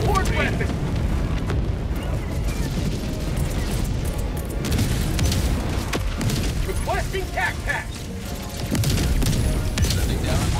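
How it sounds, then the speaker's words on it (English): Orbital barrage strikes land as heavy, rumbling explosions and bursts of fire in the video game Helldivers 2. The booms keep coming and stay loud throughout, with game voices and other action heard under them. "Orbital barrage incoming."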